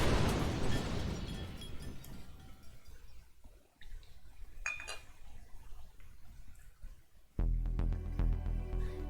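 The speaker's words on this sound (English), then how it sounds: "There was a thunderous explosion and a gout of flame tore the roof off the minivan like it was made of aluminum foil." A minivan explodes in the 428 Shibuya Scramble video game, a loud opening burst whose rumble fades out, followed by scattered glassy clinks and a second heavy impact near the end.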